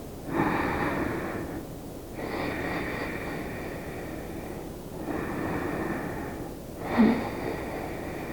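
Slow, steady breathing during a yoga hip-opener pose, long inhales and exhales with a few soft snort-like breaths, close and moderately loud with no talking.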